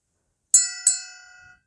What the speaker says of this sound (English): Then there's my elephant bell